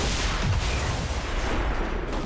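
Grenade blast in XCOM 2, a loud, sustained low rumbling boom with crackling debris that fills the whole moment and slowly fades, heard without speech.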